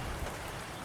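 Pouring rain at an Arizona homestead, a brief, quiet, even wash of falling drops with no voices.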